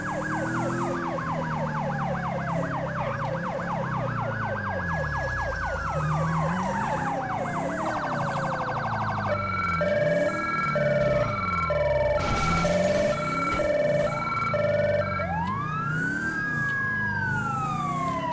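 Ambulance sirens in Grand Theft Auto V wail and yelp continuously, several overlapping patterns rising and falling, loud and close amid steady engine rumble.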